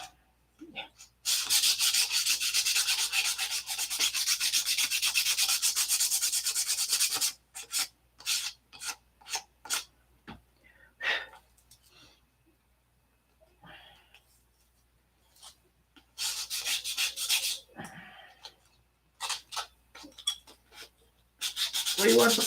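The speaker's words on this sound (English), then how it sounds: "I like sandpaper." Sandpaper rubbing on a surface in long continuous strokes, then shorter scrubbing bursts separated by pauses, close and clear.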